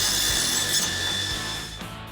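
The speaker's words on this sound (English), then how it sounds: "Over at the bandsaw, we can make our cuts and clean up the edges." Bandsaw cutting steel exhaust pipe for a NASCAR-style exhaust on a Foxbody Mustang, a steady loud grinding whine with a high metallic ring that fades slightly toward the end, no talk.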